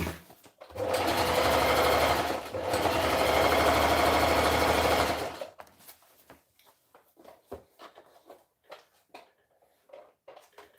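A domestic sewing machine joins and zigzags the inseam of a pair of pants, running loud and steady in two long bursts with a brief pause between them, then stopping into a sparse string of small clicks and handling taps.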